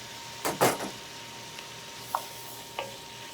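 Diced carrots, rutabaga and onion sweat in a pan, with a couple of sharp stirring scrapes up front, then faint sizzling and a few soft knocks of the utensil.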